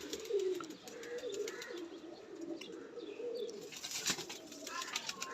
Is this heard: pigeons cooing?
yes